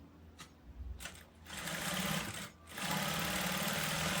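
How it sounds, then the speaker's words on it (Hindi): Sewing machine stitching a bridal lehenga blouse, the motor running in bursts with short pauses between, fairly quiet with a steady mechanical whir. "मैं सिलाई लगाना शुरू कर दिया।"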